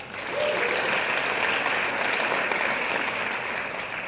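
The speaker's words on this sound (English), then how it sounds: "Give them a round of applause." Audience applause at the World Merit Summit in Morocco, a dense, steady clapping from a crowd that swells quickly and holds at full strength for several seconds.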